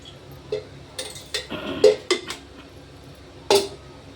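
Metal ladles clink and knock against a cooking pan as two ladlefuls of oil go in, making several scattered close clatters with quiet gaps between them.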